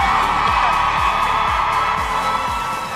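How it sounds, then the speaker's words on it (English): Big crowd of fans at the MCC Twitch Rivals event in Las Vegas, cheering and whooping loudly in a steady wash of noise, with a low rhythmic thump repeating underneath. "Well, the crowd here has been loud"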